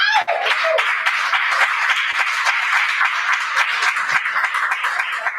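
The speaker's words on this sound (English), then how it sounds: "One more round of applause," Sustained audience applause and clapping fill the whole stretch at a steady, dense level, with no pause and no spoken voices over it.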